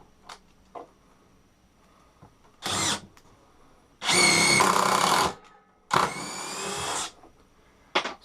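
A DeWalt DCF922N brushless 18V impact wrench, set to screwdriver mode, drives a 100mm screw in three separate bursts of whirring, each a second or so long, with a couple of faint knocks between them and no talking.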